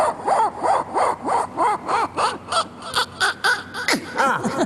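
A voice mimics a hacksaw-style blade cutting an aluminium channel, a loud, close rhythmic series of about a dozen rasping, squealing strokes at an even pace.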